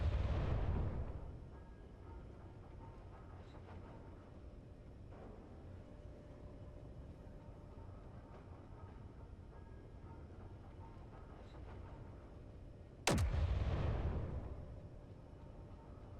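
Turret guns fire in the space game Space Engineers. A deep boom opens the stretch and rumbles away, a low steady hum carries on, and a second sharp, loud shot hits near the end before it fades.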